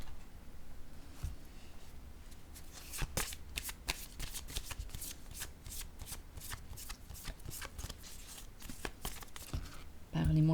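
Playing cards shuffled and flicked down one after another in quick, close crisp snaps and rustles, with a louder burst near the end.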